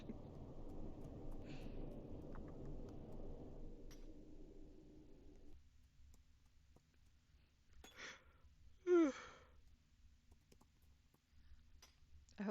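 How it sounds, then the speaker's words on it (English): A person yawns once, a drawn-out vocal breath rising then falling, during a gaming session in Roblox, after a stretch of quieter background clicks and low hum. "hope I'm making you guys all yawn, listening to me yawn."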